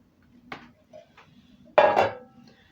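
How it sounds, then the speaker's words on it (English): Three cups of cooked rice dropped into a skillet, a couple of light scrapes and clinks followed by one louder clattering thud of utensil on pan, close by with no talking. "Cooked rice going in."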